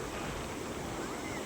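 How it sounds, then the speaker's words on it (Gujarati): Sea waves on the shore at Dwarka make a continuous heavy rushing roar, with wind buffeting the microphone throughout and no distinct breaks between surges. "બાકી અહીંથી મોજા જો આવે મિત્રો, ખતરનાક આવે."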